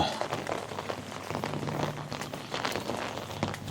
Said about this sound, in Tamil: மழைங்க, கண்டினியூஸாக மழை.